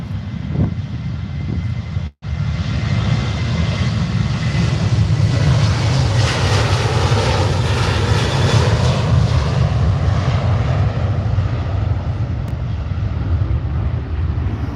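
A Jet2 Boeing 737-800 departing Manchester Airport gives a loud, steady, broadband jet roar that holds for the whole stretch, with a brief dropout near the start and wind buffeting the microphone.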